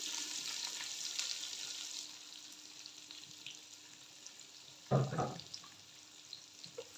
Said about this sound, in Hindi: प्याज को हमने फ्राई करना है।